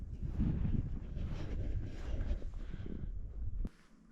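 Strong gusts of wind buffet the microphone and roar through dead spruce trees at a remote off-grid Alaska cabin, a loud continuous rush that drops away sharply near the end.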